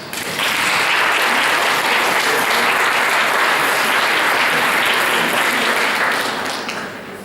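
Audience applause at a school Christmas concert, a full, steady roar of many hands that rises quickly, holds loud for several seconds, and tapers off at the end.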